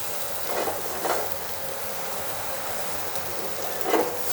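Filet mignon steaks sear in a hot cast iron pan with a continuous, close, loud sizzle and a few brief crackling bursts, with no voices.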